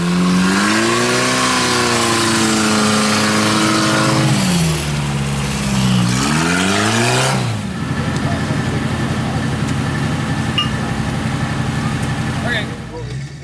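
Vehicle engine straining to pull a Toyota out of a mud hole during an off-road recovery, revving loudly and steadily with rising and falling pitch, close and continuous for the whole stretch.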